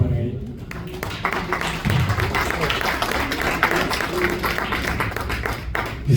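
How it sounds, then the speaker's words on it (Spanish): Audience applause at a lecture on contemporary feminist political thought, a steady patter of clapping filling the room after an introduction, moderately loud and sustained throughout. "Por favor, un aplauso para él."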